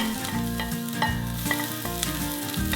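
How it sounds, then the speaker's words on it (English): Garlic, ginger and shallots fry in hot oil with a loud, continuous sizzle, broken by the scrape and clatter of stirring. "And then in goes the garlic, ginger and also shallots."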